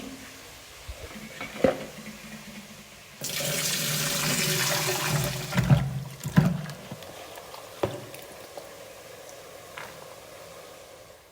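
Garlic and ginger being washed under a running kitchen tap, water gushing and splashing in a sink for several seconds between quieter handling knocks and drips, with no speech.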